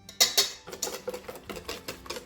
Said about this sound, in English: I'm using a whisk so I can break up the yolks.